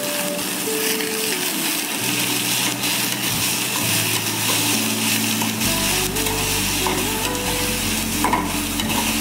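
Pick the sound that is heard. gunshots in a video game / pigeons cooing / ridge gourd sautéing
ridge gourd sautéing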